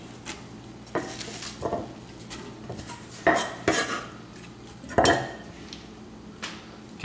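Cabbage goes into a hot pan with fennel seed, salt and pepper, bringing sharp clatters and scrapes of utensils against the pan and a faint sizzle between the knocks.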